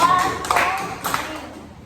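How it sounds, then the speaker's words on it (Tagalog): A classroom group claps three rhythmic rounds in praise of a student, the bursts close and quick with a voice counting along beneath them. "Bigyan ang tatlong palakpak si Argonal."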